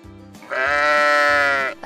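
A single sheep gives one loud, sustained bleat lasting over a second, close to the microphone, with a low steady tone faintly underneath.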